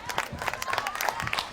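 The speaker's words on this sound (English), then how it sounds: "She gets a round of applause heading back here to the near sideline." Crowd applause at a college women's soccer match, Bowling Green at Springfield, brief and steady with scattered claps and cheers, a commentator's voice running over it.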